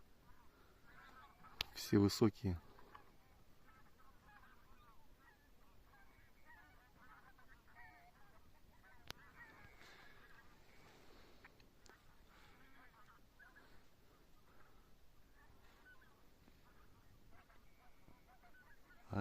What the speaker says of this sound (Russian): Гусей куча прилетела.